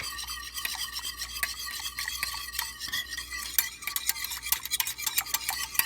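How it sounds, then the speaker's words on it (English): A whisk beats hot candy mixture for Nerds Ropes in a pot, making a rapid run of close metallic scrapes and taps that grows busier and louder toward the end, with no talking. "Give it a good whisk."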